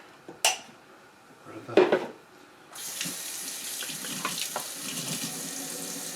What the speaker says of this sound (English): I'm just going to coarsely chop this, rinse it and clean it up a little bit here.